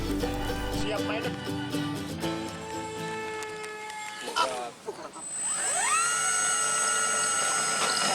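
The twin electric motors of an ATR-72 model RC plane whine on its maiden flight, their pitch climbing, dipping and rising again to a high, steady drone.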